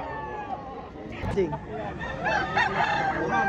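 A fighting rooster crows amid busy, noisy surroundings in Lipa City, Batangas, with clucking fowl and people talking close by throughout.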